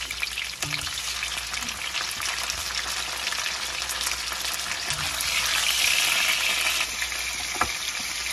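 Chopped onion and tomato sizzle and crackle in a hot pan, a steady loud frying hiss with a few clinks of stirring utensils, close up and without talk.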